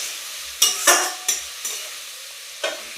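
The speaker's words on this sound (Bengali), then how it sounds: "এগুলো এখন একটু ভাজা ভাজা করবো।" Powdered chili, turmeric and salt frying in oil in a pan for egg curry, stirred in several sharp bursts of scraping and sizzling with a soft hiss between strokes.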